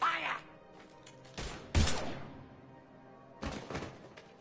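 Gunfire in a sci-fi video game firefight: a few separate loud bursts and booming shots with gaps of quiet between them.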